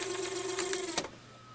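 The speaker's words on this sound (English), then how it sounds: "If I hit fast forward, it spills out in the machine." Samsung DVD-V5500 DVD/VHS combo unit fast-forwarding with tape spilling out inside, a steady whirring mechanical drone with a high tone, ending in a sharp click as the motor stops.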